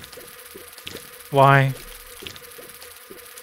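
A brief, loud buzzing burst of insect-like noise from bees in The Binding of Isaac video game, rising in pitch and standing out over quiet game background, with a short spoken word nearby.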